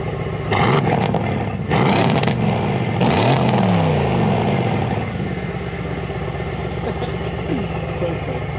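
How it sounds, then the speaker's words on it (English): A Mercedes C63S AMG Edition 1 engine, 604 bhp, idles, then revs sharply a few times with rising and falling roars before settling back to a steady, close idle. "we'll give it a quick rev just so you can hear it"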